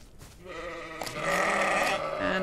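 A dying sheep in a Wild West video game gives a long, loud, wavering bleat that swells and stays strained for about two seconds, heard close with no talk over it.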